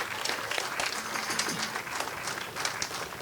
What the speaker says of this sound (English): so please, a round of applause for all their hard work.